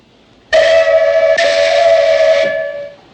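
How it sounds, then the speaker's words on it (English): A loud, steady steam whistle sounds in one long blast with a brief shift midway, then cuts off abruptly, leaving a quiet tail. "we just blow the whistle"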